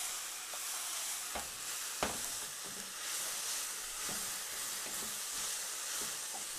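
Ingredients for a pot-cooked cabbage salad, seasoned with pepper, being stirred: a steady hiss and sizzle runs throughout, broken by a few sharp scraping knocks of the spoon against the pot.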